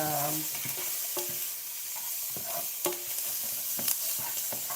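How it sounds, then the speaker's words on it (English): Vegetables for lasagna sizzle and fry in a pan while a utensil stirs them in repeated scraping strokes, steady and close with occasional sharper clinks. "I'm gonna cook my veggies down."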